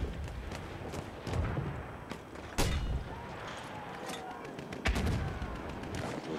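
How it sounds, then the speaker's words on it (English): Mortar fire in the Battlefield 1 battlefield: a series of heavy booming blasts and thuds over constant rumbling combat noise, the strongest hits landing at irregular intervals. "Mortars."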